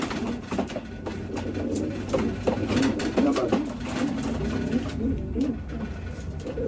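Racing pigeons coo repeatedly in a loft, overlapping throaty murmurs and soft wing and foot scuffles forming a busy, close, continuous chorus.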